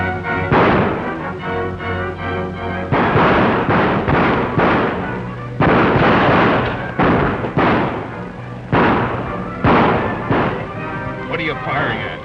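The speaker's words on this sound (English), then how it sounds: "What are you firing at?" Gunfire in a 1936 Western film set in mining country: a series of loud, close bursts and thuds at irregular intervals, with shots echoing and overlapping across the scene.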